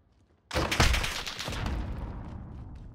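Sustained automatic AK rifle fire in Modern Warfare, a sudden loud burst of rapid shots that begins after a brief quiet moment and keeps rattling without a break.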